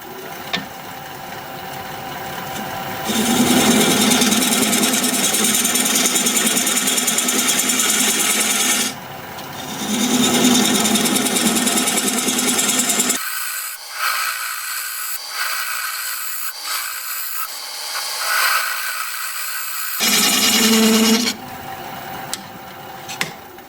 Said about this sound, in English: And for that, I'll use a 1/2 inch gouge.